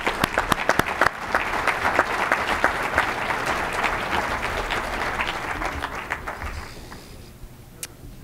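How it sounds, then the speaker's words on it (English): An audience at a public presentation on rising sea level predictions for Glynn County gives the presenters a round of applause: a burst of close, dense clapping that stays full for several seconds, then thins out and fades. "if we could give them another round of applause"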